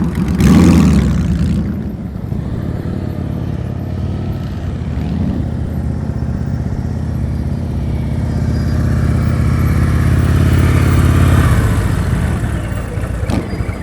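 A motorcycle engine idles and putters steadily through a slow-speed riding practice session in Illinois, close and continuous with mild swells in revs and no talk.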